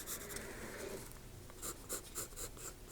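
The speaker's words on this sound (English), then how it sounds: "And we can just sketch those in very lightly." A pencil sketching lightly on paper, a faint close scratch that turns into a run of short rhythmic strokes.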